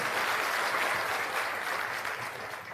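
An audience welcomes a speaker at a political gathering with loud, dense applause, a steady, even wash of many hands clapping.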